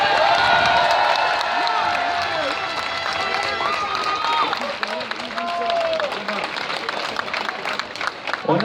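A crowd at a street protest rally against a reform applauds and cheers, with dense clapping, whoops and shouting voices that swell early and continue under chatter.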